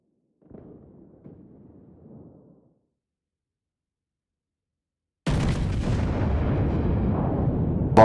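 Naval guns fire shells in the World of Warships online game during a clan battle, with a faint low rumble early on, then a sudden loud blast that rolls into a sustained booming roar.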